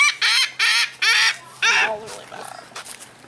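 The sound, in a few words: birds being fed at Flamingo Gardens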